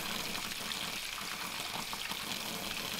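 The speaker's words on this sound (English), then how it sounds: "So all we can do is put more water in." Water is poured steadily into a koi pond, a dense continuous splashing and rushing wash that stays loud and unbroken throughout, with no voices.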